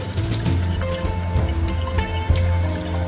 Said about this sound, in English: I have it run beneath the faucet like so.